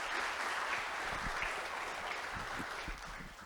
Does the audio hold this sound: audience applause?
yes